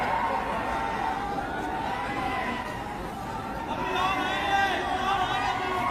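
A large crowd gathers at an Arvind Kejriwal political event in Punjab, filling the air with a constant murmur of overlapping chatter and voices, dense and close throughout.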